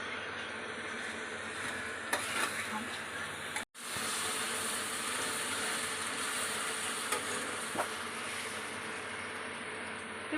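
Spices frying in oil in a pan for a chicken curry, with onion, ginger and garlic, give a steady, close sizzling hiss that runs almost unbroken, with one brief cut near the middle.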